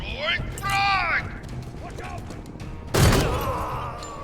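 A frag grenade goes off in the tactical game Door Kickers 2 as a single sharp, loud burst near the end, trailing into a noisy decay after earlier whistly, chirping game sounds and faint talk.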